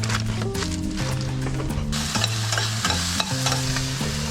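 Ground beef mince fries in a pan aboard a sailing boat, with a continuous sizzle and repeated scraping stirs over a low droning hum.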